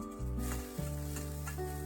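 Chopped onions and garlic hitting hot oil with cumin seeds, a steady close sizzle and hiss under a humming background tone, with faint stirring.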